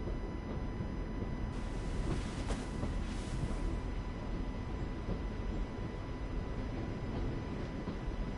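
A train rolls along its rails in The Walking Dead: The Final Season video game, a steady low rumble with faint rhythmic clatter throughout and no talking.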